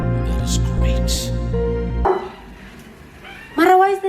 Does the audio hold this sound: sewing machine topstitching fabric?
no